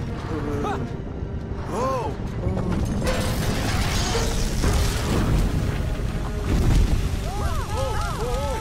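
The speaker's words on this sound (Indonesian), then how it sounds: "Bor super menyebabkan gempa super." A cartoon earthquake set off by a super drill rumbles low and continuous, with booming surges and mechanical clatter, under excited cartoon voices.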